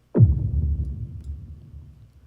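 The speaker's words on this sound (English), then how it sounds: "I had a boom right here as well." A single deep boom hit from a music track for an animated film soundtrack, a sudden heavy low thump with a brief sharp attack that rumbles and decays over about two seconds, heard alone.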